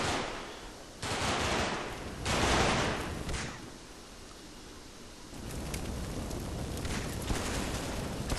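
A heavy machine gun team fires in the Combat Mission Market Garden campaign, two loud bursts of rattling gunfire up front, then a quieter, steady stretch of distant battlefield noise with scattered crackling shots.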